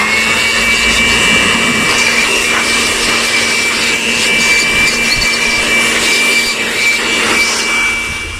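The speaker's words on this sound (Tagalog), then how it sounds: "kailangan natin ng blower dito para mapatuyo maigi" A loud, steady roar of an air blower drying a cleaned Toyota Vios 2NZ-FE intake manifold runs without a break, a harsh rushing hiss with a faint whine, close up.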